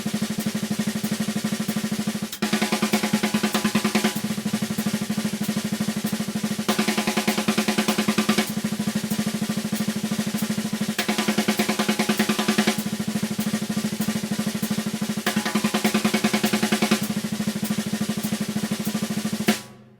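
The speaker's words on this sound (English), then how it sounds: "full-on rim shots" A drummer plays rim shots in a steady triplet pattern, leading with the left hand, sharp cracking strokes repeating densely and evenly for about twenty seconds before stopping abruptly.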